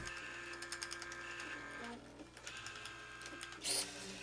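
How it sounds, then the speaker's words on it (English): A stepper motor drives the toothed belt and cogs of a Turing machine tape, giving quiet rhythmic mechanical ticks and whirring pulses with a brief brighter burst near the end. "These cogs are moved with a stepper motor driving a toothed belt system."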